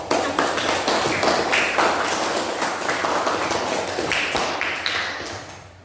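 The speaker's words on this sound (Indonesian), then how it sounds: "Ya, kita kasih aplaus bareng-bareng untuk" A classroom of students breaks into lively group applause for their presentations, a dense spread of claps that holds steady for several seconds before tapering off at the end.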